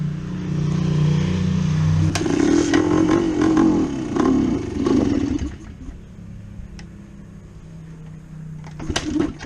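A 1972 Yamaha DT2 motorcycle engine idles loudly right after starting, with a rough low drone and mechanical clatter that fades partway through, then picks up again with a brief rev near the end.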